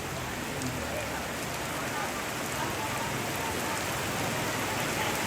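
Heavy rain pours steadily during a ceremony at a Tongkonan, a dense, even hiss of rain hitting surfaces that stays loud and constant throughout.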